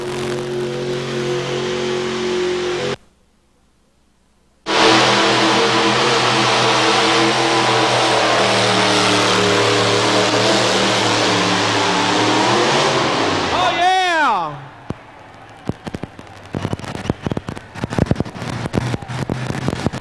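A 6,200-pound four-wheel drive modified pulling truck roars loudly at a Louisville truck pull, engine screaming at full throttle while dragging the sled, then winding down with a sweeping pitch drop, followed by scattered crowd noise and clatter.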